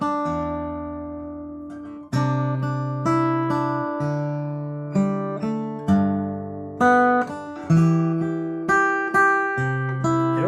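Fingerstyle guitar plays a simple melody over plucked root notes, each note ringing and decaying cleanly, heard close and solo at a relaxed, steady pace.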